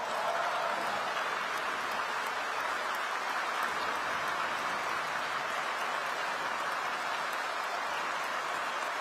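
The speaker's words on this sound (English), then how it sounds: "would you mind just standing up so we can give you a round of applause?" An audience gives a round of applause at a political speech, a steady, fairly faint wash of clapping that continues without a break throughout.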